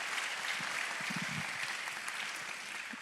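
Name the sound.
audience applause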